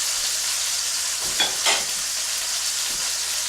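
Steaks cook in a pan with a steady, close sizzle, broken by a couple of louder spits and crackles midway and one small knock near the end.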